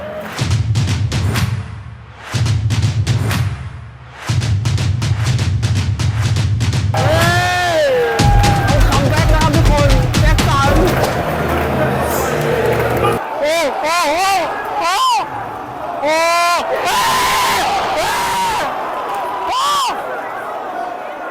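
A crowd of Chelsea fans at a stadium in England roars and chants loudly as the players come out onto the pitch, with nearby voices shouting over the dense cheering throughout.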